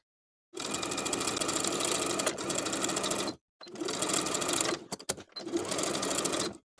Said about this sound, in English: Edge stitch in place all the way around.